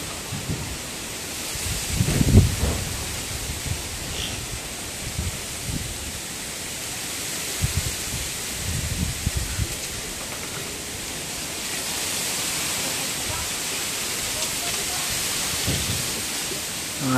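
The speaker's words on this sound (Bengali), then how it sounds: "বাতাস যেরকম, বালু উঠতেছে ওই রকম।" Strong wind sweeps across open ground beside a pond, whipping up sand in a steady, loud broadband roar with low, buffeting gusts rumbling against the microphone throughout, and no voices.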